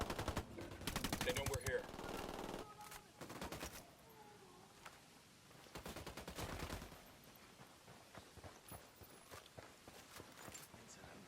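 Bursts of automatic rifle fire from a Ghost Recon Wildlands firefight crackle in loud, rapid volleys separated by brief pauses, with footsteps and a short spoken line between them.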